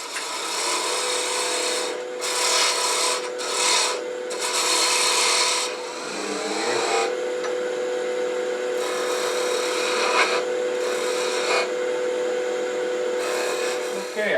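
A wooden piece spins on a lathe while a tool cuts it down, giving a steady humming drone with rasping, scraping cutting bursts that come and go, close and continuous throughout.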